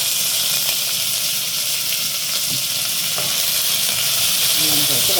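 Onion and garlic sauté in oil with mustard seeds, fennel and fenugreek for a Tamil potato and tomato curry, giving a steady loud sizzle with occasional stirring scrapes and faint pops throughout.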